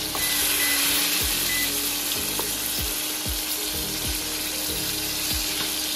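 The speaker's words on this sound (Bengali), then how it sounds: "একটু বেশি করে ভেজে নেব, তাহলে একটু ক্রিস্পি হবে বেশি।" KFC-style chicken deep-frying in hot oil gives a steady, loud sizzle with bubbling crackle, punctuated by regular scraping or stirring knocks, close up with no talking.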